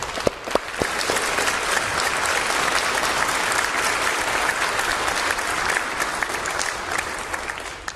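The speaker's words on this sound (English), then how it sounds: "We can start with giving them a round of applause, if we would." A church congregation applauds its media ministry volunteers at a 40th anniversary service, a dense, steady wash of many hands clapping that holds loudly and evenly for the whole stretch with no voices on top.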